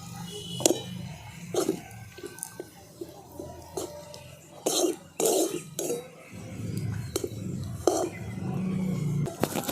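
Gram flour mixture stirred in a pan, a spoon or spatula scraping and clinking against the metal in irregular strokes, close and fairly soft, with faint background noises.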